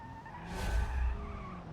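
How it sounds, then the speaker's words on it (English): Pessima front-wheel-drive car power sliding in BeamNG.drive, tires skidding and squealing in one rising, loud smear over steady engine drone, close and alone. "Power slide in the front wheel drive."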